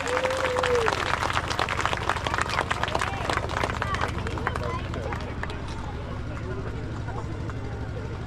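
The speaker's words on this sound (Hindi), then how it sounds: "आदरणीय विधायक जी स्वागत अपने ग्राम सभा में प्रधान जी द्वारा जोरदार ताली बजाएं" Village assembly audience clapping to welcome an MLA, loud and dense at first, then thinning and fading, with an amplified voice and background hum underneath.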